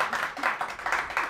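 A small group at a Christmas cupcake decorating contest claps and cheers to vote, a quick run of close hand claps mixed with cheering voices.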